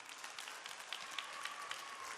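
Audience at a Yanga general meeting applauding, a steady dense patter of many hands clapping together, continuous and fairly faint as heard from within the hall.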